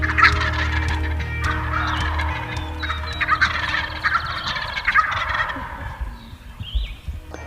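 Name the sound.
Eastern wild turkeys gobbling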